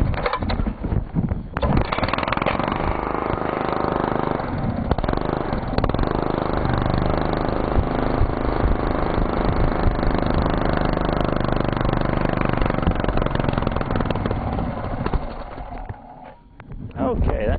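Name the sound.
engine running on charcoal gasifier gas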